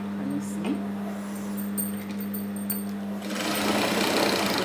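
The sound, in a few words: sewing machine stitching a skirt seam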